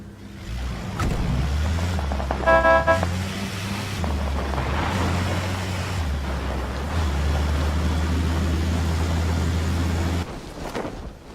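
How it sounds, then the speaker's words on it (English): A vehicle engine drone in the battle-royale game PUBG, steady low rumble with shifting pitch and a brief tonal chime early on, continuous for about ten seconds before cutting off. "the car sounds are much more different now"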